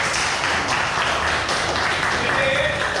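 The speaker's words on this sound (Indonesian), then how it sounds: "Beri tepuk tangan untuk kita semuanya." A whole class of students claps their hands at the end of a lesson on network cables, a dense, continuous burst of applause at close range with voices mixed in.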